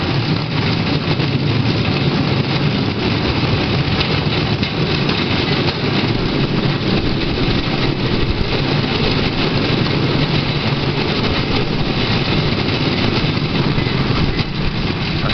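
Steady low rumble of a train heard from the driver's cab on the B71 line as it runs toward Neuenkirchen station, a continuous loud drone with constant mechanical hum and no voices.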